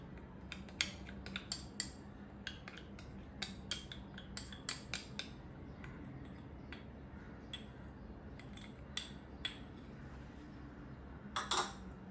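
Soft clinks and taps of a utensil against a bowl as chili sauce is stirred into spring roll filling, irregular quiet strikes over a low steady hum, with a small clatter of hits near the end.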